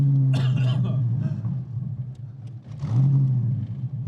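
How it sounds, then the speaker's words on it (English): A car engine revs hard in two surging bursts, a deep growl climbing in pitch, then easing off between them. "Sounds like a V10 when you get on it."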